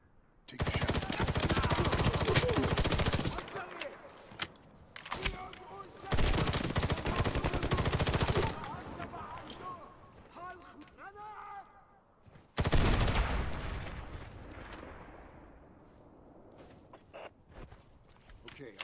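Heavy bursts of gunfire in the video game Medal of Honor (2010), loud sustained volleys in long stretches broken by short pauses, ending in a final blast that trails off, with game voices in between.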